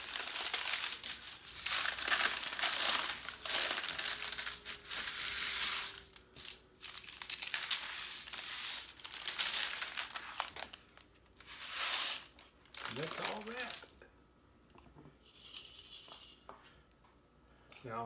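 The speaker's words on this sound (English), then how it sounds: "So let's take this paper now." Paper being crumpled and handled close by while packaging homemade instant rice for storage, crackling bursts that come and go with brief pauses, with some faint talk.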